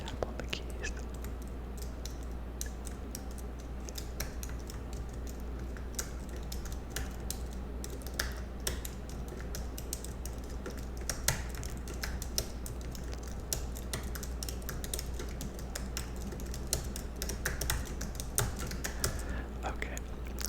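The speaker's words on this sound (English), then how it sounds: "I'm gonna just like tap on the keys." Computer keyboard keys are tapped softly and continuously in a quiet room, a close, gentle stream of light clicks over a low steady hum.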